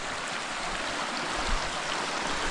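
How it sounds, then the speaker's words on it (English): A river in New Zealand's frozen wilderness pours in a constant, even rushing hiss, close and fairly loud, with no voices. "we're here now on the river"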